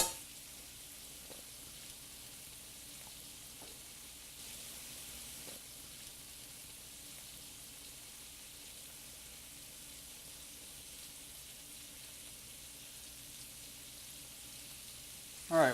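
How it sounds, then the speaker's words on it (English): Shrimp sauté in a pan with a steady, soft, continuous sizzle that holds for a long stretch, with a few faint utensil taps and no talk. "while our shrimp are sauteing"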